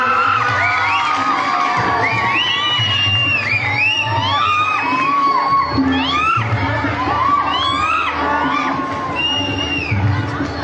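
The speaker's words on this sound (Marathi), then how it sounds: "आपण जोरदार टाळ्या वाजवून या ठिकाणी त्यांचं स्वागत करूया." A lively crowd, with many children, cheers, whoops and shouts continuously to welcome a guest at a school annual gathering at a primary and secondary ashram school, loud and close throughout.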